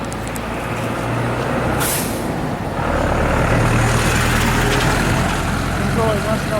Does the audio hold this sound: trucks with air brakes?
yes